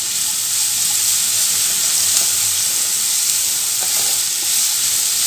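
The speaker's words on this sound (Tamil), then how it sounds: "ஹை ஃப்ளேம்லேயே வச்சுட்டு காய்கறி நல்லா வதக்கி கொடுங்க" Vegetables stir-frying over a high flame for vegetable fried rice, a loud, steady sizzle with a constant hiss and faint stirring scrapes throughout, no talk.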